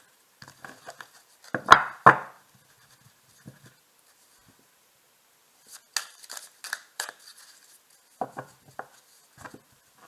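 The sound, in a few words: cutting a deck of tarot cards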